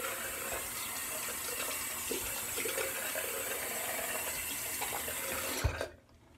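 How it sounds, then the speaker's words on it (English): Tap water runs steadily while someone rinses off. The close, even hiss of the stream lasts several seconds, then cuts off abruptly near the end, with no talking. "Let me rinse off and we'll carry on with the story here"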